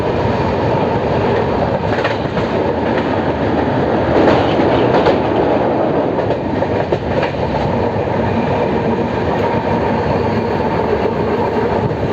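The Kaziranga Express, passenger train 13181 from Kolkata to Silghat Town, runs on the Durgapur–Asansol line in India with a loud, continuous rumble and rhythmic clickety-clack of wheels, heard from on board, with no talking.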